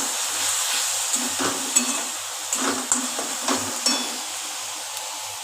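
Spices with green chilli paste frying and being stirred for an egg curry, a steady close sizzle broken by repeated scraping strokes of a spoon against the pan.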